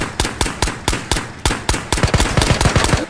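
Gunfire from a gun in the VR shooter Ghosts of Tabor: loud, close single shots in a steady rhythm that quicken into a rapid string of about a dozen rounds.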